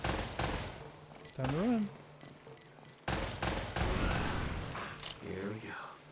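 Gunfire from an AK rifle and shotgun in the PS4 game Uncharted: Drake's Fortune Remastered, with several loud bursts and single shots set among game effects, while a player talks over it.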